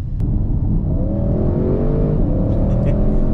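An Audi RS6 accelerating, heard from inside the car: loud, continuous engine roar with a rising whine that climbs, briefly dips at a gear change, then climbs again under heavy road rumble.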